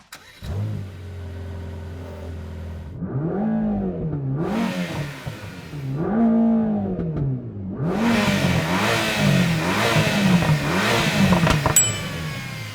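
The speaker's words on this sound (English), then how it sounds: "Let's start it up and have a listen to what this GT Black Series sounds like." The twin-turbo 4.0-litre V8 of a Mercedes-AMG GT Black Series cranks and fires into a low idle, then roars through several sharp revs, each blip rising and falling, growing louder and more aggressive toward the end.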